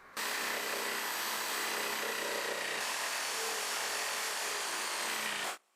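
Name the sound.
jigsaw cutting wooden board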